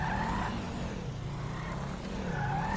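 A Buffalo car in Grand Theft Auto V driven at full throttle, a close steady engine roar with wavering pitch and some tire squeal, with no talking.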